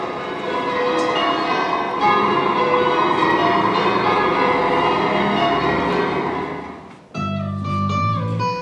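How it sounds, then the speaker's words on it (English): Church bells peal continuously with rich, overlapping ringing tones, loud and sustained, then a brief dip and a fresh strike rings on near the end, during a one-act stage play. "I heard the church bells ringing a little while ago"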